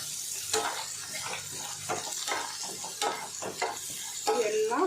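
Fish mixture with grated coconut being stirred in oil in a pan: repeated scraping spatula strokes in irregular rhythm over a continuous sizzle, close up, with no talking.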